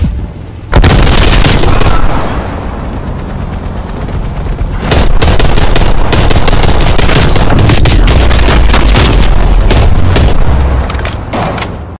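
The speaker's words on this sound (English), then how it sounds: "Throwing grenade." Close, very loud grenade blast followed by sustained automatic gunfire and booming explosions in the Call of Duty Cold War video game, rapid cracking volleys continuing almost without pause for several seconds.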